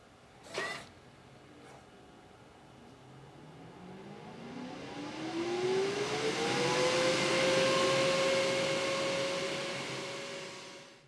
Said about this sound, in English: So if we turn on the chamber exhaust fan to simulate a regular PLA print or PETG print, turn that on